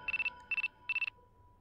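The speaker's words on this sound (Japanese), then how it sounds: "電話。" Telephone ringing in the horror game Kyoufu Shinbun: three short bursts of a rapid electronic trill, each about a fifth of a second, evenly spaced, clear and close with a faint steady tone after.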